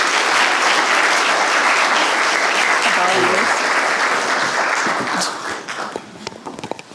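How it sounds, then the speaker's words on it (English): A large audience at a Veterans Day event claps loudly and steadily for several seconds, then the applause tapers into scattered individual claps and fades out. "Can we give Chris a round of applause, please?"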